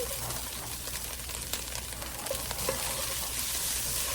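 Taco meat frying and being stirred in a pan, a continuous close sizzle with occasional scraping and clinking of the utensil against the pan, no voices.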